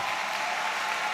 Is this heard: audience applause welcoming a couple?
yes